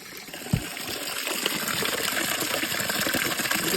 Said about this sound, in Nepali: यत्रो पानी आइरहेको छ